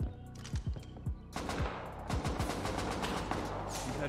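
AK and MP5 fire in the survival game Rust rattles in quick bursts of sharp shots, sparse at first and then a denser sustained volley, fairly loud with no talk.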